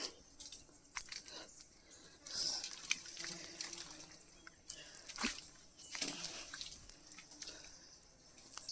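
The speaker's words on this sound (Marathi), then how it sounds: "हे बघा येतोय पाणी इकडे" Seawater trickling in over a muddy seashore during crab catching, a faint, uneven gurgle and lapping with scattered small splashes, heard from close by outdoors.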